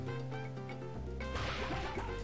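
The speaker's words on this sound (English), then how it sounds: "Yo, Boney with the smashes" Smash attack hit effect from the video game Mother 3, a sharp synthetic whack followed by a bright crashing burst over a looping game music backdrop.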